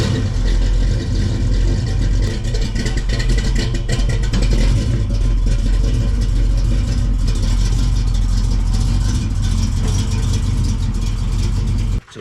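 A 1967 Pontiac Firebird engine, just after heater core replacement, runs with a steady, loud mid-pitched rumble that holds constant throughout, ending abruptly.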